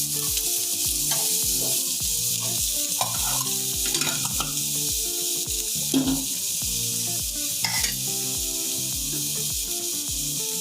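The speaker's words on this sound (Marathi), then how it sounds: "अद्रक, लसूण, कांदा तिन्ही सगळंच भाजून घेणार आहे ना." Ginger, garlic and onion roast in a pan for paneer masala, a steady close sizzle with rhythmic scraping and stirring strokes over a constant hiss.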